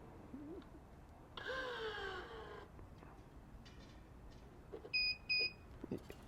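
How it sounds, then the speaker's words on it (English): Racquet stringing machine giving two short, clear electronic beeps to signal the correct string tension, fairly quiet and heard after some clicking and a brief whining squeal. "The beep tells you that you got the right tension."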